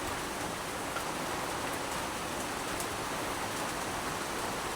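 Steady rain hisses evenly during a typhoon while boat fishing, a constant broadband wash of drops with no breaks or talk.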